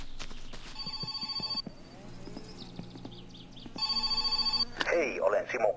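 A telephone rings twice in the video game My Summer Car, each burst a bright electronic trill lasting about a second, separated by a quieter stretch with faint background noise and light clicks.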